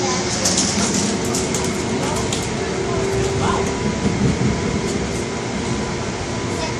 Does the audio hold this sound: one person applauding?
no